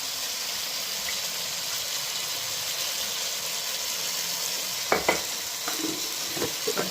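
Turmeric, chilli and coriander powders fry with tomato in a hot pan, a steady sizzle with a few sharp scraping stirs of a spoon near the end; no talking.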